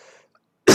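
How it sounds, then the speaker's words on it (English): A single loud, close cough bursts out abruptly after a faint murmur and a short silence. "Cough."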